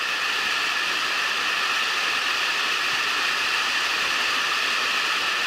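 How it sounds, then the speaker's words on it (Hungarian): Cave stream flowing steadily past inside the Csodavár cave in the Pádis area of the Bihor Mountains, a continuous close rushing hiss of water that stays even throughout with no voices. "itt a patak, mindenki látja, remélem, hogy folyik mellettünk"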